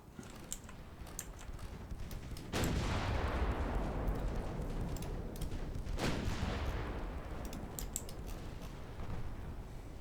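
Naval battle in a video game campaign as battleships fire on an enemy ship: two deep, booming gun blasts several seconds apart, each with a long rumbling tail, over a constant background of mechanical clicks and noise.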